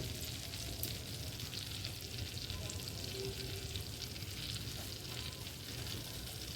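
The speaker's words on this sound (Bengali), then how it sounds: "বাটার মেল্ট হয়ে এসছে, আর স্যান্ডউইচের ব্রেডটা বাটারে দিয়ে দিলাম।" Sandwich bread frying in melted butter on a flat griddle gives a steady, quiet, even sizzle without talk, close by and unbroken.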